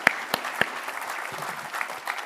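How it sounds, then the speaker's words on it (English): Seated guests give a final round of applause for an ambassador and a panelist at a formal event, a fairly light, sparse patter of clapping with a few sharper claps standing out. "Let's give them one more round of applause"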